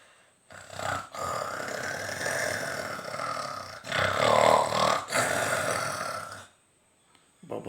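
A child imitates a tiger's roar with long, close, rasping growls from the throat, two sustained roaring stretches separated by a short break, loud and gritty before fading into quiet.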